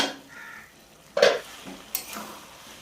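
Chicken curry (chicken kosha) with potatoes being stirred in a cooking pot: a couple of sharp scraping clinks of a spoon against the pot, separated by quiet moments.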